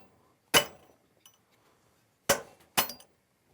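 Axe head being knocked off a store-bought wooden handle: three sharp metallic strikes, one early and two close together near the end, fairly close and clear with quiet between.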